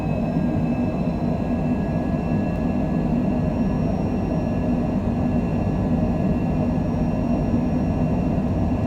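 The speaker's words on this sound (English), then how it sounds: "That makes for a nice clean takeoff." Airliner engines roar steadily during the takeoff roll at Vancouver airport in heavy rain, a loud, constant broadband rumble with faint high whines running through it and no talk.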